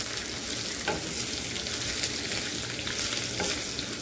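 Raw garlic fries steadily in a pan, giving a continuous close sizzle with occasional faint stirring scrapes and no voices.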